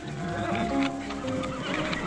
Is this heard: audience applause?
no